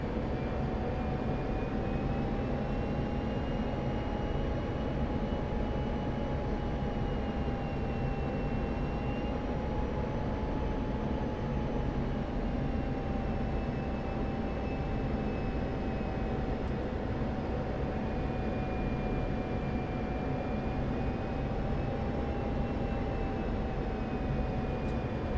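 Military jet in DCS World coming in to land after an overhead break, a steady engine drone with a high whining tone that drifts slightly in pitch, constant and unbroken for the whole stretch.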